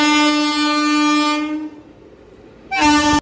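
At Jhargram railway station an arriving train sounds its horn, a loud sustained blast of about a second and a half, a short lull, then a second blast cut off abruptly.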